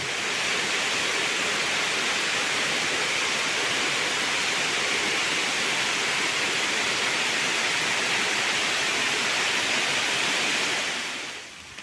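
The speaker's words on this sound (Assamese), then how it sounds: "মোটামুটি বৰষুণ আধা ঘণ্টামান আহি থাকিল" Heavy rain pours down in hilly country, a dense, steady hiss that stays loud and even from start to finish and thins only at the very end, with no voices.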